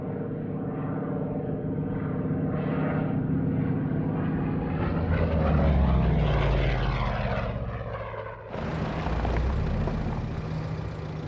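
Early WWII P-47 Thunderbolt fighters in service in England drone with propeller engines, swelling as one passes closer and then cutting to another steady roar. The engine noise carries on alone with no speech.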